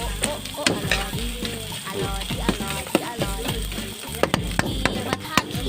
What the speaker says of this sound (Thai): ผัดผัดเครื่องแกงให้หอม